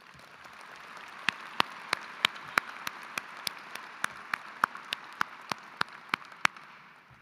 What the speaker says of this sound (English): Can we please have a round of applause again for everyone?